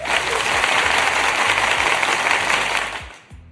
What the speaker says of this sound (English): I'm going to give you some applause for that because I needed that.